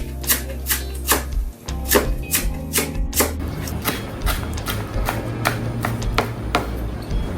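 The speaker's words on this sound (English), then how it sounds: "So I'm just going to chop this finely." A knife finely chopping scent leaf on a board, rapid sharp rhythmic taps in quick bursts with a brief pause, close and crisp.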